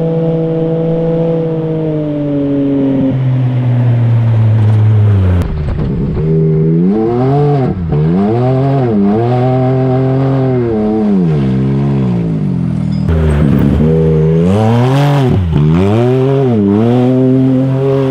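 A Can-Am X3 side-by-side engine revs loudly up close, holding a steady drone, then rising and falling in repeated throttle blips and surges, with no talk over it.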